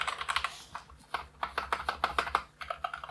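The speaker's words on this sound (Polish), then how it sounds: "No jak szybko klepiemy, to nakładka uderza o płytę, więc jest głośniej" Fast typing on a Genesis Thor 660 wireless 60% keyboard with Gateron Red switches, close-up clusters of quick keystrokes with keycaps striking the plate, bursts broken by short pauses, no voices.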